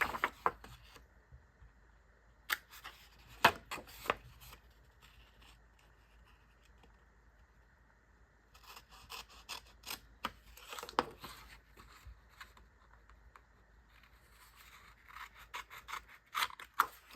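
Scissors snip scrapbook paper for an autumn-themed scrapbooking kit in sharp, close clusters of cuts, separated by quiet pauses.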